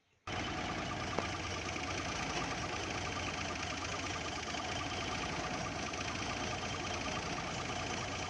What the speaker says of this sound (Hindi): अब हम गाड़ी को स्टार्ट करके इसका पानी पूरा करेंगे जी